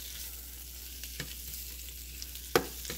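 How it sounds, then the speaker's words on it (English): Spinach wilts in garlic and olive oil in a pan, a faint steady sizzle broken by a few light scraping stirs and one sharper clack against the pan, heard close with no voices. "I'm just going to keep stirring this until it wilts"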